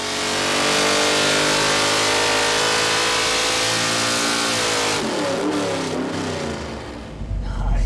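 A small-block Ford 5.0L V8 stroked to 347 cubic inches, with long-tube headers, revs hard and close on a dyno, its pitch climbing steadily from 2,500 to 5,800 RPM before the throttle drops off near the end.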